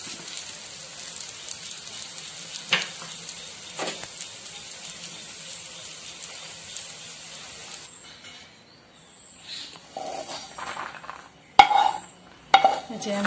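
Dishes and cutlery clink as South Indian aam bhat (mango rice) is plated and served onto a banana leaf: faint scraping at first, then a few sharp metallic knocks and clatters toward the end.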